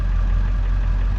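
A 2002 Ford F350 Powerstroke diesel, which has a no-throttle-response fault, idles with a steady, close, loud low rumble and faint knocking texture, with no voices.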